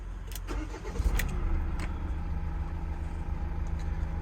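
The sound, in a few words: van engine running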